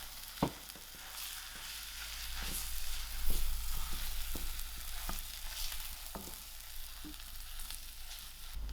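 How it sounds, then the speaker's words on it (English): Salted potatoes frying in a pan give a steady close sizzle with occasional sharp clinks and scrapes of stirring, moderately loud and without talk. "I'll give this a nice mix and allow it to fry a little"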